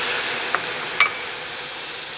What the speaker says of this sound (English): So now we're going to add in about a 1/4 cup of apple cider vinegar.